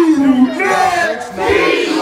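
A loud concert crowd at a hip-hop show in Queens, New York shouts back in unison, a brief roaring chant of many voices with a rising and falling tone.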